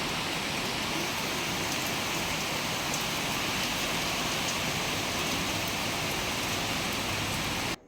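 Steady, dense rainfall patters continuously on surfaces, a loud even hiss lasting throughout before cutting off abruptly at the end.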